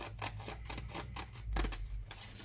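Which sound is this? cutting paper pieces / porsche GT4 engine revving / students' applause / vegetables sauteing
cutting paper pieces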